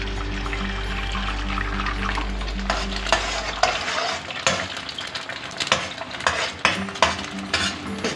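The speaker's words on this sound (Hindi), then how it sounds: "इसको जल्दी जल्दी हम इस तरह से मिक्स कर देंगे।" Eggs, two of them, are quickly stirred and fried in a pan while spaghetti is being made, with brisk scraping and clinking of a utensil against the pan over a steady sizzle, a low hum fading early on.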